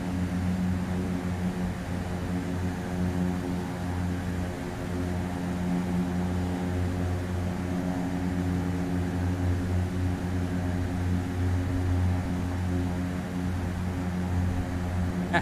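Embraer EMB-110P1 twin turboprop airplane on landing approach in the X-Plane flight simulator, a steady droning propeller hum with a sustained low engine tone, constant and unbroken.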